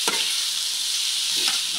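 Bitter gourd (ampalaya) frying in a pan hisses with a steady, bright sizzle, broken by two brief utensil scrapes, close and constant throughout.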